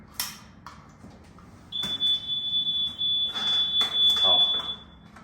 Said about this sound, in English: unit holder called and said they purchased a new smoke detector. They installed, still beeping.